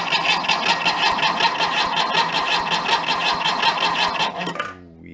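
An old Volkswagen Bus engine pulled from a barn cranks steadily on its starter, a loud, fast rhythmic churning that runs without catching, then cuts off abruptly near the end.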